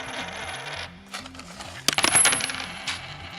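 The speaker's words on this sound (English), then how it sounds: "I would say release that coin now. There it goes." A coin dropping down a game board on a talk radio show: a run of bright metallic clinks and rattles as it bounces, loudest near the end, over a low musical backing.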